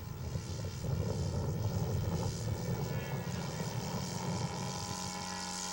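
A scale model Fleet biplane does a touch and go on the runway, its propeller engine droning steadily at moderate distance and holding a continuous pitch throughout.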